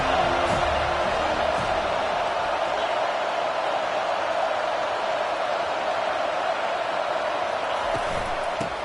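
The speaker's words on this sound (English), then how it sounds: "This crowd trying to make life miserable for this offense." A football stadium crowd keeps up a dense, steady roar for the whole stretch as fans try to rattle the visiting offense during a rivalry game. The noise stays loud and even, with no clear breaks.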